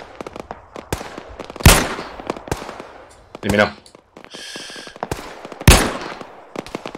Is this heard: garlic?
no